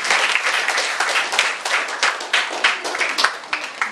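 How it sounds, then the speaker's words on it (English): An audience at a school debate applauds the timer, a steady burst of many hands clapping for about four seconds, fairly close and full, with no talk over it. "A round of applause for her."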